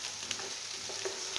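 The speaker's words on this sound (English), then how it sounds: "I will keep on stirring it until I get my desired color." Garlic and red onions sizzle steadily in a pan under a bright, constant hiss, with a few soft clicks from stirring breaking through.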